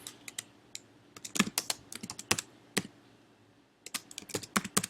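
Fingers tap on a computer keyboard in quick irregular bursts of crisp clicks, close by and fairly quiet, with a brief pause near the middle.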